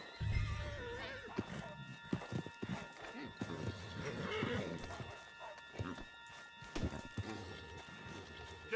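A horse whinnies loudly over steady clip-clop of hooves in Red Dead Redemption 2, with rustling and movement close by throughout.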